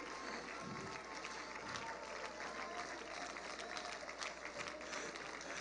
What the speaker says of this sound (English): In the name of Jesus, clap your hands